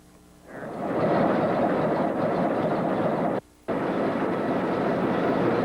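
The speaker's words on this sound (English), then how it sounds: "That's the locomotive, an Alco." A vintage 1940s Alco diesel locomotive on the Lake Whatcom Railway runs with a steady, loud, close engine roar that swells in early, drops out briefly once, then resumes.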